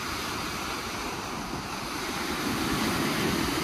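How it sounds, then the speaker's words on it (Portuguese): Steady strong wind and lapping waves on the Bariloche lakeshore in Argentina, a continuous loud rushing wash with no pauses, like surf at sea, heard alone without talk. "Só que tá muito vento mesmo"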